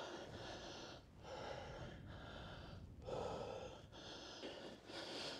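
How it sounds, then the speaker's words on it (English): Heavy, labored breathing from someone winded after a hillside climb, a run of close, loud gasping inhales and exhales in an uneven rhythm, outdoors with no other sounds. "I'm out of breath already, folks."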